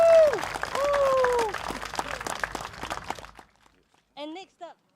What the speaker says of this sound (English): can we once again give him a round of applause for that very, very impassionate plea together?